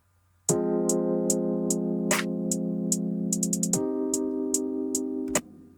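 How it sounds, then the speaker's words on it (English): Programmed hi-hat in Ableton Live ticking in a crisp regular pattern with a quick burst of rapid roll hits, layered over a sustained bass and chord bed from a lofi beat. "So now you have a roll. That's how you make a roll"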